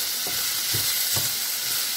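Potatoes fry in a pan with a steady bright sizzle, broken by a few soft stirring scrapes at regular intervals.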